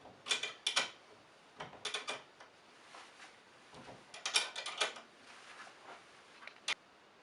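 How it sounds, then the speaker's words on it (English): Wrench tightening screws on a Verifone VX805/VX820 wall mount, with bursts of close metallic ratcheting clicks separated by short pauses, fairly faint overall. "Take your wrench, tighten up the screws the rest of the way."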